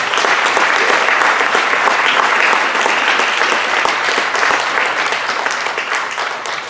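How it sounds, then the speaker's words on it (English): An audience at a high school National Honor Society induction ceremony gives sustained, loud, steady applause for the current members, filling the room with dense clapping and no talk over it. "Please give a final round of applause to our current members."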